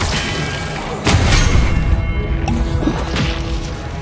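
An Expelliarmus spell cast in the Hogwarts Legacy wizard game: a heavy, booming impact bursts out about a second in, inside a dense wash of ongoing combat noise.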